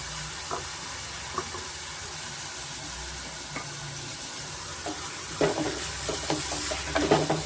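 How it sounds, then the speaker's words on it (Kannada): Small-cut potatoes and onions frying in a pan over a medium flame, a steady close sizzle with scattered stirring scrapes that grow busier toward the end, no talk. "ಮೀಡಿಯಮ್ ಫ್ಲೇಮಲ್ಲೇ ಚೆನ್ನಾಗಿ ನಾವು ಫ್ರೈ ಮಾಡ್ಕೊಬೇಕಾಗತ್ತೆ ಆಲೂಗಡ್ಡೆ ಮತ್ತು ಈರುಳ್ಳಿನ"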